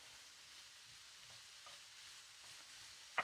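Pork and garlic frying in a pan hiss with a steady, soft sizzle, faint stirring scrapes surfacing now and then, and a brief sharp clack right at the end.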